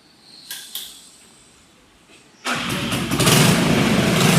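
A used 100cc motorcycle engine self-starts: a couple of brief starter clicks, then the engine catches at about two and a half seconds and settles into a loud, steady idle.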